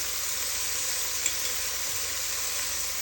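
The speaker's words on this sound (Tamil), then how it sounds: "வெங்காயத்தை போட்டு நல்லா வதங்கி கொண்டிருக்குது." Onions fry in a pan with a dense, even, hissing sizzle, loud and close, holding steady throughout with only a tiny click midway.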